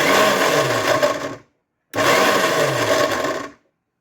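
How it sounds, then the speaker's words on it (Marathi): A kitchen mixer grinder whirs through cooked green peas in two short pulses, each a loud, steady grinding run of about a second and a half separated by a brief silence, with no speech. "आता थंड झाल्यानंतर मिक्सरमधून फिरवणार आहे"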